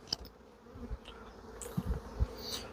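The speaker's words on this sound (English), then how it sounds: "the bees will come and clear it away in a bit" Honey bees buzz around an open hive in an apiary, a faint, thin hum with a few bees passing closer, scattered soft knocks and rustles from handling the hive.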